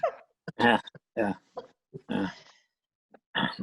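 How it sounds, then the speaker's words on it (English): A dog grunting and making snorting, pig-like vocal bursts in short irregular bouts, heard close and fairly loud over a Zoom meeting connection, with brief gaps of silence between them. "I thought she was getting Zoom bombed by a dog."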